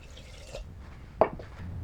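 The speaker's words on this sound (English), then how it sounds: "Here, I have 500 milliliter of water. I'm going to add that to cover my herbs." Water poured over Chinese medicinal herbs to cover them before decoction, heard as a quiet trickle with soft drips and one sharp splash near the middle, close and alone without speech.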